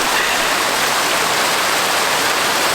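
A small natural waterfall pouring into the Rača river in Serbia, near a monastery, gives a loud, steady, broadband rush of falling water that fills the whole stretch without a break. There is no talk.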